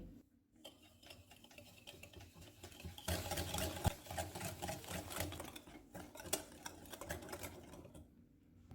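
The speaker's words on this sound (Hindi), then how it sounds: "एक बाउल में अंडा डालेंगे, चीनी डालेंगे, दालचीनी का पाउडर, नमक। इनको मिक्स करेंगे।" Eggs, sugar, cinnamon powder and salt are whisked in a bowl, a fast rattling whirr of rapid strokes that starts quiet, then grows louder and steady before trailing off.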